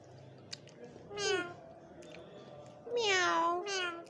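A ring-neck parrot imitates a cat, giving two drawn-out, whiny meows close by, the second louder and longer, over quiet room background.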